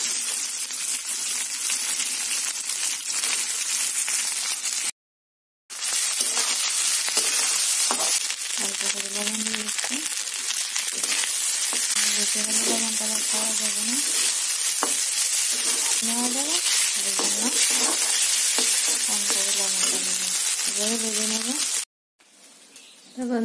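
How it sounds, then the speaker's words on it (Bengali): Rice fries with turmeric and green chilies in a pan, a steady, loud sizzle with stirring scrapes throughout, a voice talking over it in the middle and two brief silent gaps. "ভাতগুলি ভাবছি একটু ভেজে নিই"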